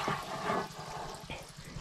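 Water gushes from a hose fed by a pressure pump onto newly planted seedlings, a close, uneven rushing flow that surges and dips, with no talking.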